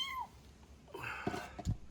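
A kitten gives one short, faint meow, then there is a soft rustle and a couple of low thumps nearby.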